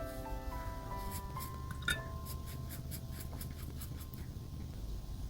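A brush loaded with clean water sweeps over watercolor paper for a portrait, giving soft, faint, repeated swishing strokes in a quiet room.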